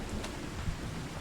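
Steady game rain falls on a rainy October day in Farming Simulator 25, a soft, even patter and hiss with a faint low rumble beneath, quiet and without talk.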